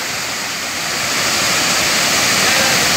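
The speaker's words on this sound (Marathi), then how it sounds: "नयनरम्य धबधबा तयार झालेला आहे" A rain-fed waterfall in the Satpura hills near Parsade Vadri village roars steadily, a dense broadband rush that swells slightly louder partway through and never lets up.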